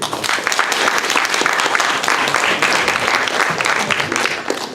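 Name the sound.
audience applause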